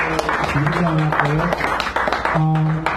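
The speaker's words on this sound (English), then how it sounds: "Give another round of applause, Liz" Applause from the audience at a San Francisco café poetry reading rises under someone talking over it, a continuous clatter of clapping that carries on beneath his voice.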